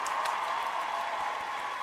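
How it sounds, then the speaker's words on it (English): An applause sound effect: steady crowd applause, a dense wash of clapping that holds at an even level throughout. "Big round of applause again."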